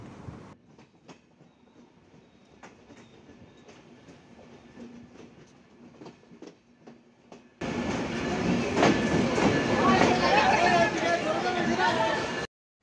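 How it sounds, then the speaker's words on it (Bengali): Chitra Express train pulls into Darshana Halt railway station, first faint rhythmic wheel clicks and rumbling, then a sudden loud close roar of passing carriages with squeals, while people talk. "চিত্রা এক্সপ্রেস ট্রেন প্রবেশ করলো দর্শনা হল রেল স্টেশনে"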